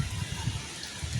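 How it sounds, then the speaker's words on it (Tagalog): Rain falls steadily during a typhoon in the Philippines, a close, even patter with soft low thuds of drops striking a nearby surface and no pauses. "umuulan na naman guys"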